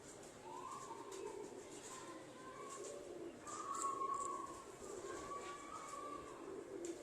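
Jugnu and Red Bull breed pigeons coo softly at moderate distance, with a few low rolling calls over steady background noise and no talking.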